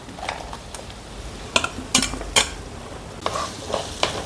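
Chopped onions frying with about three-quarters of a kilo of chicken in a pan: continuous close sizzling broken by several sharp spatula scrapes and clanks against the metal.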